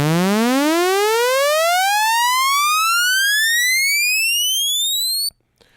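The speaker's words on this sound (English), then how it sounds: "there's a couple of things that you can do to make this riser effect something more appealing than that." Riser synth effect made with the Dune 2 plugin: a loud, bright tone sweeps steadily upward in pitch for about five seconds, then cuts off abruptly into silence.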